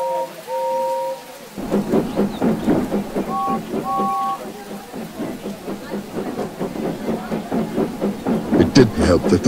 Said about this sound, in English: the rain hit the ground hard, and the thunder and lightning was so loud that it caused my ears to ring